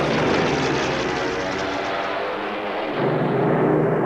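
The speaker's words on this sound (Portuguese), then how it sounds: "Os Stukas são bombardeiros de mergulho equipados com sirenes." Steady droning roar of a Stuka dive bomber's aircraft engine, loud and sustained, dipping slightly before swelling again near the end.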